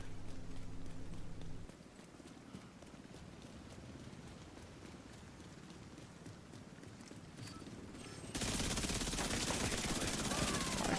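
Rapid submachine gun fire in The Division 2, a dense steady rattle of shots running through most of the clip, growing louder and harsher near the end, with no talk.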